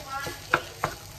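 Rice is being stirred with softened onion in a pan, a soft scraping stir with two sharp spatula knocks against the metal over a faint sizzle, close and fairly quiet, no talking.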